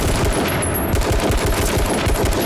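Gunfire in the H1Z1 battle royale video game: a rapid, evenly spaced run of sharp shots fired alone without talk, fairly loud.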